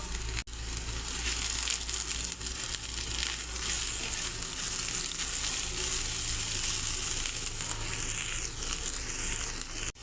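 Half-fried chopped onions and green chillies sizzle loudly in hot oil as turmeric powder goes in, a continuous close frying hiss with occasional stirring scrapes.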